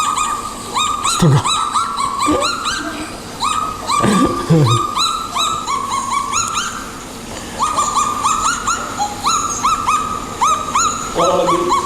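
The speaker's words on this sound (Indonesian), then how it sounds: "ada burung langka, namanya adalah burung Caledonia." A rare Caledonia bird calls repeatedly in short, bright, warbling bursts, loud and close. The calls come in quick runs with brief pauses, and a voice exclaims once among them.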